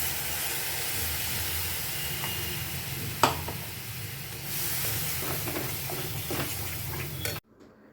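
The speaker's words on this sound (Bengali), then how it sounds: "মশলা কষিয়ে নিলাম, এবার এর উপর দিয়ে দিচ্ছি ফেটানো টক দই।" Whisked sour yogurt goes onto a spice masala of onion, garlic, ginger, green chilli, coriander, cumin and turmeric frying in a pan for doi katla. It gives a steady, close sizzling hiss with a brief clatter that stops abruptly near the end.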